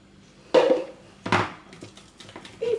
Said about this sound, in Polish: I do tej kaszy dodajemy mus bananowy i dokładnie mieszamy.